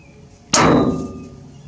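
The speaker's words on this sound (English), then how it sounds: "I've got this punch, I've got this hammer. When you put the punch on there and you hit it" A single sharp metallic clang of a hammer striking a metal punch to mushroom a bearing spindle, loud and close, with a ringing tail that fades over about a second.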